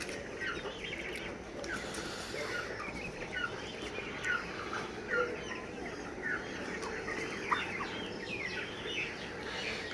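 A flock of 22-day-old broiler chickens suffering from Ranikhet disease on a poultry farm clucks and peeps continuously, a crowded, moderately distant chatter of many birds with no voices.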